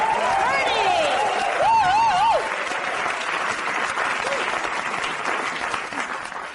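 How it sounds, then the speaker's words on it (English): Studio audience applause on a comedy chat show, a steady wash of clapping that slowly fades, with a voice calling out over it and what sounds like a brief musical sting near the start. "give him a round of applause."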